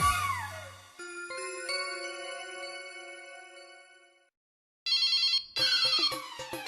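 A telephone rings in bursts of electronic tones, a long ringing stretch followed by a short pause and two more sharp rings, loud and close with no talk over it.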